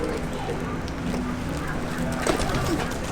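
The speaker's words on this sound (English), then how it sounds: "So we have Nico, Zaid, Elias, and Olive pigeons" Pigeons coo softly nearby in Monterey in repeated low, throaty calls over a steady outdoor background, with faint voices in the distance.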